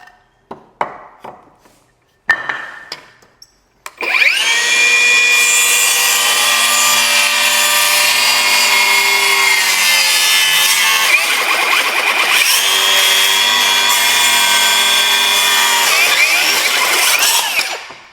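A few taps and clicks, then a power saw whines up and cuts steadily through wood at an angle, loud and close, its pitch dipping as the blade binds.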